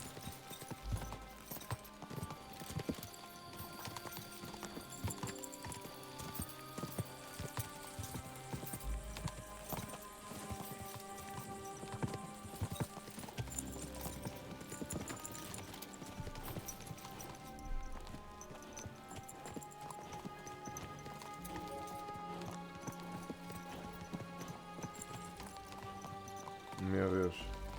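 Horse hooves clip-clop steadily in the medieval video game Kingdom Come: Deliverance II, set under a busy soundtrack and in-game sounds while people talk and react over it throughout.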